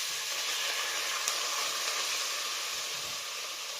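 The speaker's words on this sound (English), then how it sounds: "that sizzling sound's a really good sound that you've got a nice warm pan for cooking" Meat sizzling in a hot, preheated pan for sweet and sour pork, a steady close, dense hiss of frying that holds without a break for a few seconds, with no talking.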